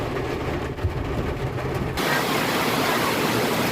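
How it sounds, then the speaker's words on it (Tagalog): Heavy rain pours down at a resort on a rainy afternoon, a loud, continuous rushing roar that grows brighter and denser halfway through, with no talking. "Sobrang lakas ng ulan."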